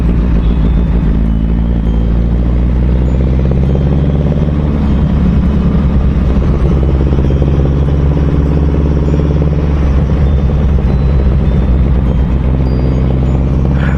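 Suzuki Hayabusa motorcycle in city traffic near Bidhan Soudha, a steady loud engine drone with low rumble and clatter throughout, blended with surrounding road vehicles.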